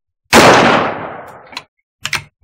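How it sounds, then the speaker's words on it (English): A single loud rifle shot from an I.O. AKM-47 M214 at an outdoor shooting range, sharp crack with a long decaying tail, followed by a couple of short clanks or knocks. "Fire this one real quick."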